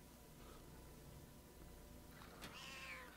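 A cartoon cat in the LEGO Marvel Super Heroes 2 video game gives a single short meow as it is petted, quiet and clear over a faint background hum.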